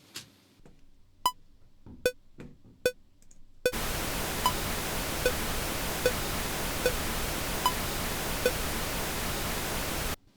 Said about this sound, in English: Right, so I have the pink noise there.